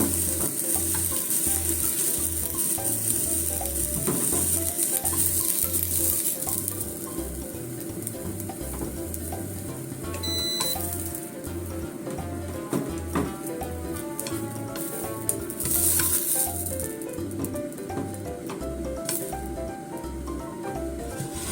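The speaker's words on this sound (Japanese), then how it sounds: "フライパンでね、表と裏と焼き色つくまで焼いて柔らかくしましたよ" Eggplant (nasu) slices pan-frying over medium-low heat until browned on both sides: a soft, steady sizzle with occasional stirring and squishing, under a regular thumping music beat.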